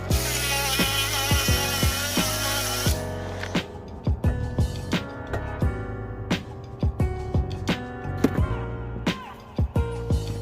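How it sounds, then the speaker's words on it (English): A Sawzall reciprocating saw cuts through the metal frame of a dirt bike, a loud harsh buzzing with repeated start-stop bursts and rhythmic clunks as the blade bites, with no talk. "I'm gonna cut it off right here with the Sawzall."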